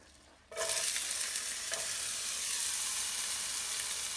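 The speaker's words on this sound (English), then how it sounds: "Now we're gonna add our onions." Onions hit a hot pan in a zucchini, tomato and corn dish, bursting into a loud, steady sizzle that starts abruptly and holds evenly with a brief crackle, no voices.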